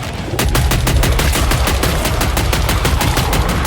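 Loud rapid automatic weapon fire in the video game Killing Floor 3, a steady stream of close, evenly spaced shots after a brief quieter start, with no speech.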